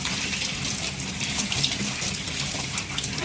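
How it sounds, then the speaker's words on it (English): Shower water runs in a steady, hissing spray with faint splashes, close and continuous throughout, with no one speaking over it. "This is about to be the fastest shower of my life."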